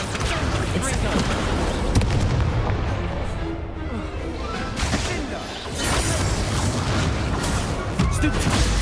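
Spell blasts and magical impacts in Hogwarts Legacy combat against dark arts foes, a loud, nearly continuous barrage of booms, whooshes and crackling bursts with brief dips between volleys.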